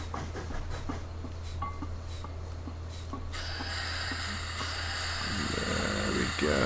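A train runs steadily in Train Simulator 2015, a continuous low engine drone with rail rumble that swells into a louder, brighter rushing noise partway through.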